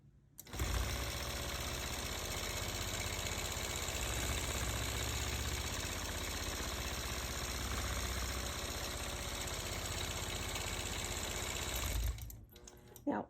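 A long-arm quilting machine stitches a disappearing nine-patch quilt, its motor running as a loud, steady, close whir for about eleven seconds before it slows and stops near the end.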